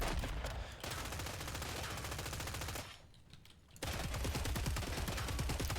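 Continuous heavy gunfire from the Doomstick shotgun in Killing Floor 3, loud and dense with rapid repeated blasts, briefly dropping off before resuming at full intensity.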